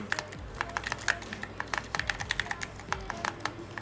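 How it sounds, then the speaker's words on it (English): Rapid keystrokes on a broken computer keyboard during coding, a steady close clatter of uneven clicks with no voice over it. "My keyboard is so broken."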